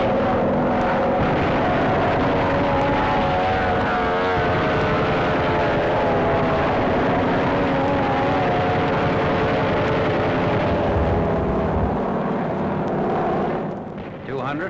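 Warplanes in flight during a 1945 wartime air strike, their engines producing a loud, continuous droning roar that holds steady throughout and only eases off at the very end.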